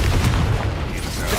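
A Confringo spell blast in Hogwarts Legacy booms out as a loud, dense burst that fills the short moment, heavy and rumbling, with no talk over it.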